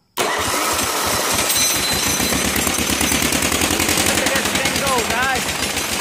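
Deutz two-cylinder engine catches and runs steadily, a loud rapid chugging firing rhythm right after a brief silence, continuing unbroken throughout.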